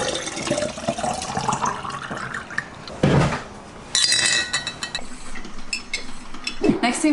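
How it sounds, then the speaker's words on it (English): Water runs and splashes into a big drinking glass in a kitchen, with a bright clink of glass around the middle and more sharp taps and trickling toward the end, close and fairly loud. "I make it my goal to drink a big glass of water first thing every single morning."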